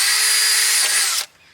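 A power drill bores holes in pipe for a DIY bog garden. A close, loud, steady whine runs for over a second, then winds down and cuts off abruptly.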